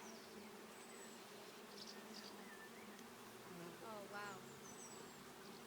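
Honeybees hum steadily around an open hive, a close, even buzz with occasional individual bees darting past, while a person softly exclaims partway through.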